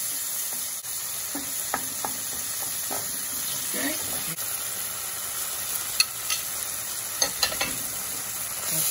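Cherry tomatoes cook in puttanesca sauce in a pan, a moderate steady sizzle with scattered scraping stirs and soft knocks of a utensil, plus a few sharper clatters near the end.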